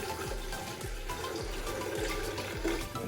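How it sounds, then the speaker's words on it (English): Water pouring into a big container, a steady gushing, splashing stream with rhythmic gurgles as the vessel fills, fairly close and continuous, with no voices. "So first we're going to pour in our water."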